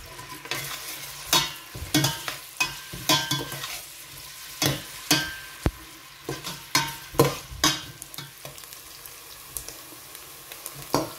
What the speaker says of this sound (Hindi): एक पतीली में हाफ कप ऑयल गर्म करके उसमें मैंने कटे हुए प्याज शामिल कर दिए हैं और इनको अच्छी तरह से ब्राउन होने तक मैं फ्राई करूंगी